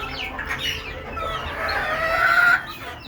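Native chickens cluck and call close by, a steady murmur of fowl with a louder rising call near the end, no talking.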